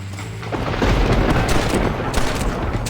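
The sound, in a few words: gunfight in Red Dead Redemption video game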